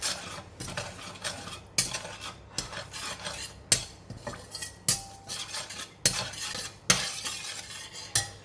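Light soy sauce and sesame seed oil being stirred together with a utensil, giving repeated sharp clinks and scrapes against a bowl in an irregular rhythm, close and clear with no talking.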